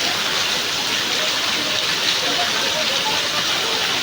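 Steady heavy rain pouring down, with runoff streaming along a road, a dense continuous hiss that stays loud and unbroken throughout, with no talk.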